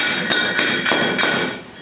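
Standard Proctor compaction hammer dropping onto soil in a small 4-inch mold in a laboratory, four sharp thuds at an even, steady rhythm, close and clear with no talking.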